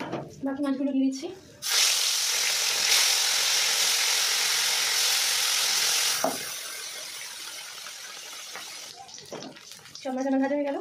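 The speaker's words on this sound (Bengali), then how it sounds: "এক এক করে সব মাছ আমি ভেজে নেব।" Bata fish pieces fry in hot oil for a Bengali tel jhal, a loud, steady broadband sizzle lasting several seconds, with someone speaking briefly before and after it.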